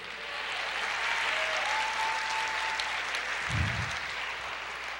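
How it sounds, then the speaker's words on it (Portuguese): A church congregation applauds steadily throughout, a dense wash of clapping at moderate volume with a faint sustained tone beneath and a brief low thump partway through. "Aplauda o Senhor"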